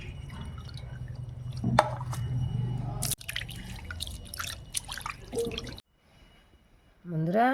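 Peeled prawns are rinsed by hand in water, with splashing, dripping and squishing sounds close by that stop briefly before a final trickle.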